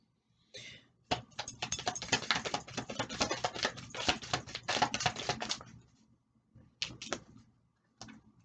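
Tarot cards being shuffled by hand in a dense, steady run of crisp riffling and flicking for several seconds, then a few short separate slaps of cards, close and fairly quiet with no talk.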